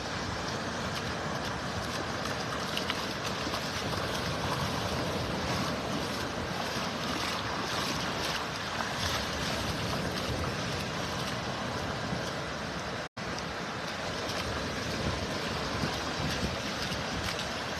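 Rough ocean surf rolls onto a beach in Naples, Florida at low tide, a loud, unbroken wash of breaking waves with wind buffeting the microphone and no voices.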